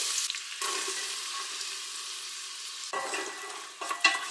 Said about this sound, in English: The lard is melted, so I'm gonna add the onions next.